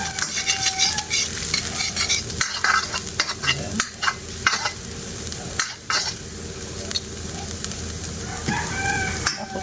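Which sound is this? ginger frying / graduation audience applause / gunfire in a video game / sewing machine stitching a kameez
ginger frying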